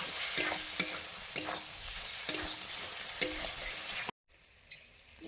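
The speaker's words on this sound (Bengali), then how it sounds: "এই যে আলু পেঁয়াজ কলি ভাজা হবে" Potatoes and onion sprouts sizzle steadily in a hot pan, with a spatula scraping and stirring in regular strokes about once a second before the sound cuts away abruptly near the end.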